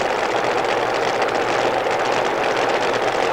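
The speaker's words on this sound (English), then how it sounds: "Cool burning alcohol engines can wait as long as they want at the line." Alcohol-burning drag racing engines idle steadily at the starting line at the IHRA World Nationals in Norwalk, a dense, continuous rumbling drone close by and loud throughout, with no voices.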